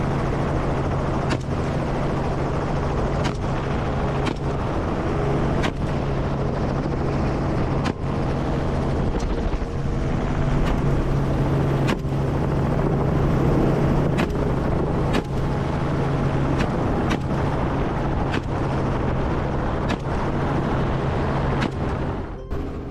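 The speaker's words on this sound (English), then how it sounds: "The helicopter changed direction, flying in circles over the forest" A helicopter circles low over a forest while chasing wild boar. Its rotor gives a loud, steady drone with regular blade thumps that run unbroken throughout, and no voices are heard.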